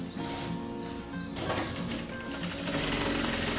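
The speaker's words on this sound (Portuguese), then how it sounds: "E vou passar mais uma costura." A domestic sewing machine stitches a seam on a fabric pencil case, its rapid motor whir and needle chatter running continuously and close, growing louder toward the end, with no speech.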